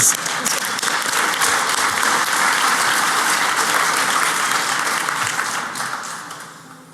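A conference audience at the Black Hat USA 2013 Pwnie Awards bursts into a big round of applause, dense and loud clapping sustained for several seconds before tapering off near the end.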